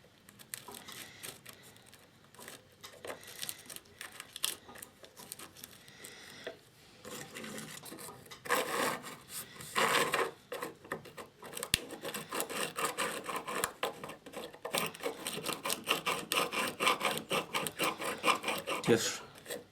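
Chainsaw nose sprocket bearings on a harvester bar are rolled and nudged into place, giving soft, irregular close scraping and rubbing with small metallic ticks, fairly quiet.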